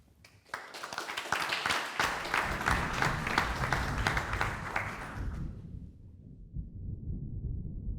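An audience applauds at the introduction of an evening panel discussion, a dense, steady wash of clapping from many hands that swells and holds for about five seconds before fading into low room murmur.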